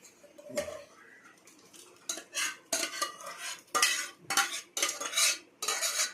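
Repeated bursts of rattling and scraping as food tumbles into a metal pot, clattering in uneven pulses, close and moderately loud.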